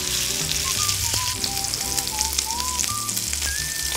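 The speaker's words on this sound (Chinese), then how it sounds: "然后牛排下锅，牛排每面煎大概20-30秒就好了。" A sous-vide steak sears in butter in a hot pan, a loud, steady, close sizzle with background music playing throughout and no talking.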